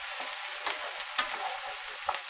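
Peppers and onions fry in a pan for a kitchen-sink burrito, giving a steady soft sizzle throughout with a few brief crackles and pops, close and alone without talk.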